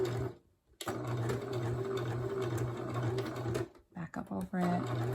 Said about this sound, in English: Back up over it, go forward.